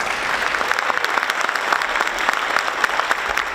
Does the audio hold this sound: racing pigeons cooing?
no